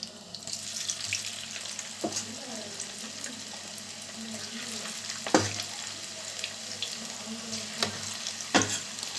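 Snacks fry in hot oil over medium heat, giving a continuous soft sizzle and crackle with a few sharper pops and clatters.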